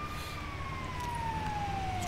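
In the GTA 5 video game, an ambulance siren holds a steady, slowly falling wail over low engine rumble, moderately loud and alone.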